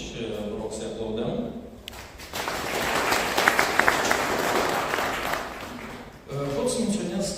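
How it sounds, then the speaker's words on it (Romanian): An audience applauding at a live event, a broad burst of clapping that rises for several seconds between stretches of a speaker's voice before and after. "vă rog să-i aplaudăm"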